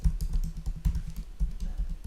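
Keys clatter on a computer keyboard in a quick, steady run of close, crisp taps during game code entry.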